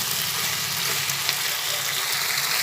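Drumstick vegetable and potatoes with mustard and poppy seed sautéing in a pan give off a dense, even, close-up hiss of frying oil that stays steady throughout, with no voices.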